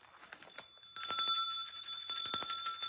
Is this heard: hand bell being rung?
yes